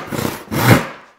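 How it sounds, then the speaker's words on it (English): Hand saw ripping along the grain of a board, two rasping strokes with a short pause between, close and fairly loud with no talking. "Making the rip cut is very similar to making the cross cut."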